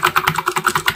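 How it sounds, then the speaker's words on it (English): Computer keyboard keys are clicked in a brisk, even run of about nine close, crisp keystrokes within a single second, with no talking. "which I'm clicking my keyboard"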